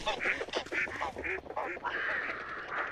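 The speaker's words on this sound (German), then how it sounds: "Also das sind zwar jetzt die blöden Enten" Ducks in the video game Hunt: Showdown quack in a rapid, fairly close series of honking calls that continues without pause.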